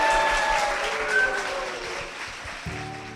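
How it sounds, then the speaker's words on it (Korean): A church congregation applauds its church and pastor, with steady, dense clapping from a crowd filling the space throughout, easing slightly toward the end. "교회와 목사님을 위해서 힘찬 박수 부탁드리겠습니다"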